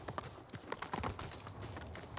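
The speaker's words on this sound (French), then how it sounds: "Tu es un bon cheval, Sora." Horse hooves in the video game Ghost of Tsushima clip-clop in a quick, steady rhythm over a low rumbling background, fairly faint, with no speech.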